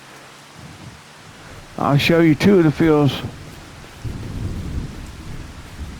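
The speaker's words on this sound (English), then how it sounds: "It's raining." Steady rain and thunder on a farm in Iowa, a soft broadband hiss with a low rumble swelling near the end, while someone speaks briefly over it.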